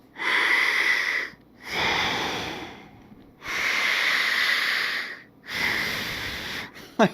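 Four long, loud breaths, slow in-out rasps with short silences between, followed by a brief sharp click at the end.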